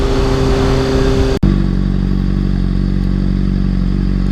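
A 2013 Honda CBR600RR motorcycle being ridden and downshifted, a loud steady engine hum that cuts abruptly at the shift with a brief dip, then resumes at a lower, rumbling pitch, heard close up.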